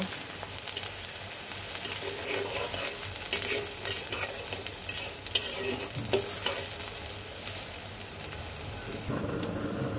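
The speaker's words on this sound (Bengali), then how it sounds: "পেঁয়াজ কুচি, পেঁয়াজটাকে একটু সুন্দর করে ভেজে নেব" Onion frying in oil gives a steady crackling sizzle throughout, with occasional spoon scrapes, close and even in loudness, no speech.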